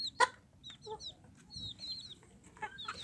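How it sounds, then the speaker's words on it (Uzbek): Young chicks chirp in a rapid scatter of high, thin peeps, with soft clucks and scratching from growing birds, fairly close and without talk. "Mana shu biz jo'jalarimiz."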